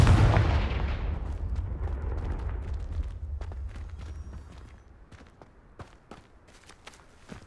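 Confringo fire spell in Hogwarts Legacy, a loud booming blast up front that rolls off into a long fading rumble, followed by quieter scattered footsteps and small impacts.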